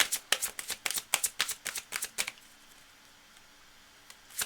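Tarot cards riffle-shuffled in a rapid burst of about a dozen crisp, close snaps over two seconds, followed by near silence and one last soft flick.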